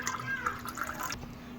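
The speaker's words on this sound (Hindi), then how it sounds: "अब हम डाल लेंगे पानी" Water pours into a mix of milk for a sugar-free kachi lassi, a soft splashing trickle close by that runs for about a second before stopping.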